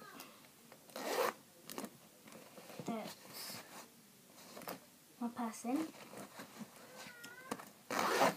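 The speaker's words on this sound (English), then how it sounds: "And then here I have a big zipper with all of my stuff in." A zipper on a school bag is pulled open in short rasping bursts, with a louder pull near the start and another at the end, while a person talks between and over the sounds.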